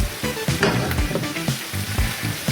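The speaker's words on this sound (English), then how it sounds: "I'm just going to give it a stir." Eggs with chili being stirred in a hot frying pan give a steady close sizzle, with soft scraping strokes of the stir repeating through the crackle.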